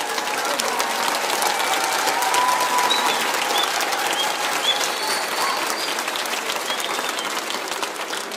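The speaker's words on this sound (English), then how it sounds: "give a special round of applause to these young singers" An audience applauds young singers at the close of an inaugural UDUMO Gauteng 2022 evening concert, with dense, steady clapping filling the room for about eight seconds and a faint crowd murmur mixed in.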